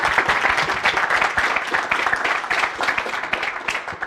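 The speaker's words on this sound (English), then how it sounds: "Applause." Steady applause from an audience at a Go programming meetup following a talk, dense overlapping clapping at an even level for several seconds with no voices on top.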